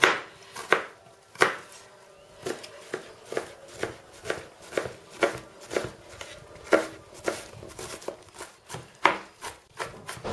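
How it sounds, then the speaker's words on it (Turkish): A knife finely chops three onions on a board for a stuffed pepper filling, with steady, fairly quick close cuts that repeat throughout, with no talking. "Soğanımızı elimizden geldiğince ince doğruyoruz"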